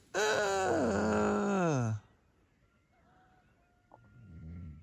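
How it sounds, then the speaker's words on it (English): A single loud, close rooster crow lasting about two seconds at 4 a.m., followed by quiet background with faint distant noises. "It's 4 o'clock in the morning. And we've got cockerels going."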